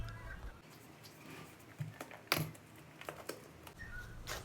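A heavily taped parcel box being opened: scattered crinkling, tearing and scratching noises at close range, with one sharper rip near the middle, over a quiet room.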